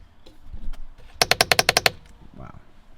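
Paddle shifters on a car being flicked in a quick burst of about eight crisp, evenly spaced clicks, close and fairly loud, with soft handling noise before and after.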